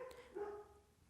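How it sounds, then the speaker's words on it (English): A dog gives a single short, close bark in a quiet room, followed by a brief whining tail that fades out. "my dogs are alerting me to some activity on the outside"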